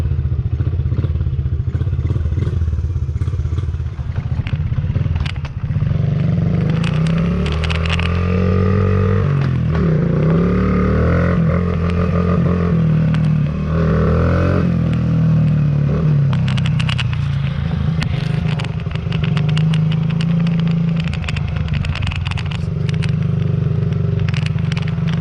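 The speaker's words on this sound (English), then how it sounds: "We're outside messing around on the Honda CRF 50." A Honda CRF 50 small dirt bike rides outdoors, its engine a loud, steady buzzing drone that rises and falls with throttle, with clattering and scraping mixed in throughout.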